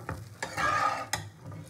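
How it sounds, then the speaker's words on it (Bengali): Water poured into a hot pan of pabda fish curry with mustard paste bursts into a loud, rushing sizzle that fades. Brief stirring knocks come before and after it. "অল্প করে জল দিয়ে দিলাম আমি।"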